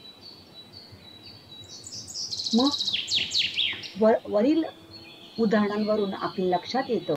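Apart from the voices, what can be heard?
birds chirping at dawn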